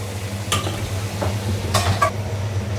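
Onions frying in a pan for a mutton curry, with a low continuous sizzle and a few scraping stirs of a spoon against the pan, close-up and with no talking.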